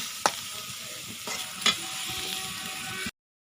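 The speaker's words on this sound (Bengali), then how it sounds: "আমি উচ্ছে আলুটা দিয়ে আমি ভালোভাবে নাড়াচাড়া করে নিচ্ছি। আমি একে আরও 3 মিনিট ভেজে নেব।" Bitter gourd and potato fry in a pan with a constant sizzle, while two or three sharp scrapes of a spatula stir them before the sound cuts off.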